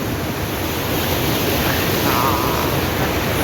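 The Pandhar river at Nepanagar rushes forcefully beneath a bridge under construction, making a loud, continuous roar of churning water heard up close without a break.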